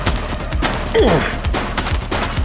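A burst of rapid gunfire in the police video game The Precinct, loud, close shots crackling in quick succession over constant rumbling background noise.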